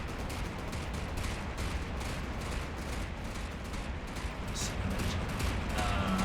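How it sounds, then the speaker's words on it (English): Basic .50 cal machine guns fire on a vessel in the video game From the Depths, a continuous loud rattle of rapid bursts layered over heavy rumbling battle noise. "it's just basic machine guns here. 50 cals."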